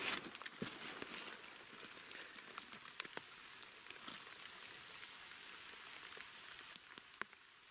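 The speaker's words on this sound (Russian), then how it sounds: "дождище идет" Heavy rain falling outdoors during quartz digging, a steady faint hiss of drops with scattered sharper patters and taps on nearby surfaces.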